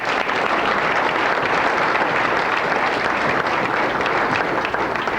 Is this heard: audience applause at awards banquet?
yes